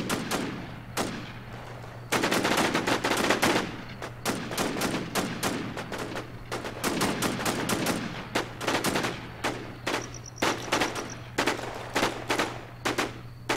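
Rapid bursts of automatic gunfire crack out close and loud in the survival shooter Infestation, volleys stuttering irregularly with brief gaps between them for over thirteen seconds.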